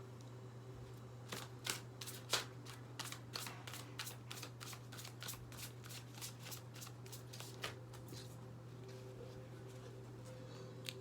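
A big deck of cards is shuffled by hand in a quiet room, giving a run of sharp riffling bursts and snaps that repeat steadily over a low steady hum.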